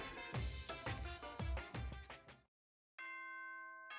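Announcement chime in the video game Danganronpa 2: a descending series of bright bell-like tones, about four struck notes, then a brief silence followed by a sustained electronic tone, fairly quiet.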